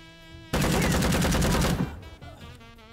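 Rapid gunfire from a character shooting in the video game Empire of Sin, a loud, dense burst of automatic shots lasting about a second and a half before tailing off into game sounds.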